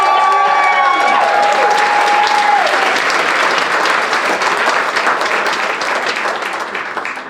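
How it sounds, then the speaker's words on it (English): Gala audience applauding donors during a fundraising program, a loud, dense wash of clapping that begins under a fading tonal sound, holds strong, then tapers off toward the end. "Give yourselves a round of applause."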